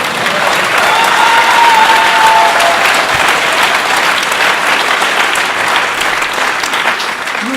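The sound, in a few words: warm audience applause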